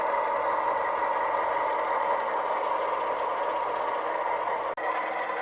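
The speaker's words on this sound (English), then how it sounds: "the engine uncouples from the train" A diesel locomotive idles at the head of a freight train on a coal siding, a steady, fairly loud drone with a constant low hum, briefly broken by a single sharp click near the end.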